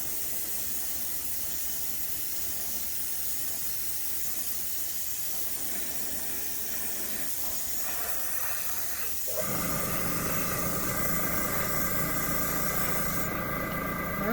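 An airbrush sprays satin black paint onto a model car interior with a continuous soft hiss, joined midway by a louder steady compressor hum that persists to the end.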